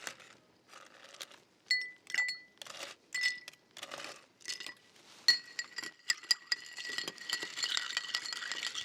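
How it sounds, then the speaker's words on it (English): Ice cubes drop into a bar glass for a smoked Manhattan cocktail, giving a quick run of bright clinks and rattles that settle into a denser clattering jingle, close and clear with no talk. "Then add ice."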